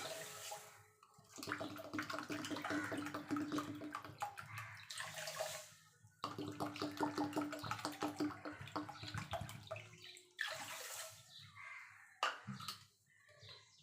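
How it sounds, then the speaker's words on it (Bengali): Water pours into a pan of sugar to make syrup for rasmalai, a steady splashing stream that runs in long bursts with short pauses, close and moderately loud. "এবার দিয়ে দেবো 3 কাপ জল।"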